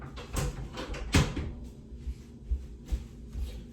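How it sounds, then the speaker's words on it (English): A room door being pushed shut, with a few soft thumps and a louder knock-like bang as it meets the frame, close by and fairly quiet. "may I just close your door?"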